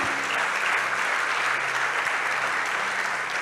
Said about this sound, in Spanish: Fuerte ese aplauso porque es para Jesús.